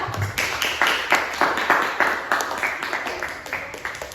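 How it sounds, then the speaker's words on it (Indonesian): A small group of students in a classroom claps together in quick, close applause that gradually thins out. "Beri tepuk tangan dulu untuk kelompok 4."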